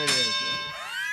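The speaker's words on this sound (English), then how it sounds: "I can hear the bell." A bell rings once with a bright metallic clang, its ringing overtones sustaining and slowly fading, fairly close and alone.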